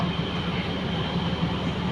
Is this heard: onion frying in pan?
no